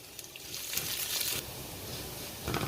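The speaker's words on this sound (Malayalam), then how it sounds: "ചെറിയ ഉള്ളി ഇതിലേക്ക് ചേർത്ത് നന്നായിട്ട് ചുമക്കുക വറുത്തെടുക്കണം" Small onions frying in hot oil after popped mustard seeds, a steady soft sizzle and crackle close up with faint stirring.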